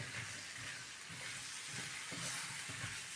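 Okra stir-fried in a spiced masala in a pan, giving a steady soft sizzle with faint stirring scrapes throughout, fairly quiet and close, with no voices.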